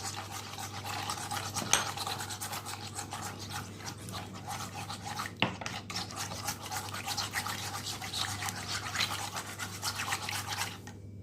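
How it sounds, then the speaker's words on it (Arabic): Eggs being whisked in a bowl for chocolate cookie dough, a quiet, steady rapid scraping and rubbing with no pauses, plus two sharp clacks along the way. "فيه غادي نخدموا البيض ديالنا مزيان"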